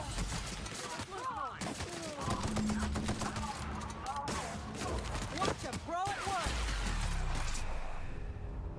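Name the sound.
rifle gunshots from video game The Outer Worlds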